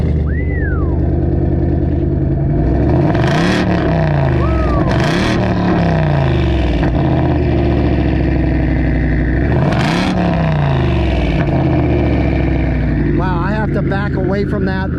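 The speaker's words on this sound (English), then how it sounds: "this car's twin turbo, so you can hear that in the background of the loud exhaust." A twin-turbo sports car engine revs loudly with booming exhaust, rising and falling in repeated surges, the turbo whine faintly audible underneath.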